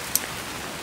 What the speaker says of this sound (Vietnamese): Mưa lớn rồi, chạy vô đi con ơi.